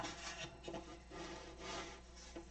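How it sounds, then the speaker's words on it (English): A jab saw rasps back and forth through material to cut out bulkheads while finishing a top skin, with quick, close scraping strokes in an uneven rhythm and no talking. "so I'm going to use my jab saw"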